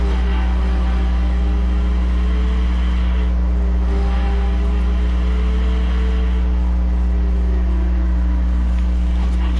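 Turbocharged car accelerating on the road, a steady drone of engine and road noise heard from inside the cabin, loud and continuous with a faint rising whistle and no voices.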